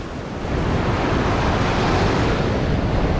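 Loud, continuous rush of waves breaking and splashing close by while fishing in Australia, with steady wind noise buffeting throughout and no voices.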